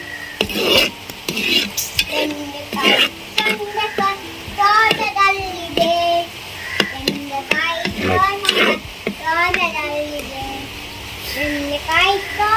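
Prawns ghee roast masala sizzles gently in ghee on a low flame, with a spoon stirring and scraping the pan, under near-continuous talking.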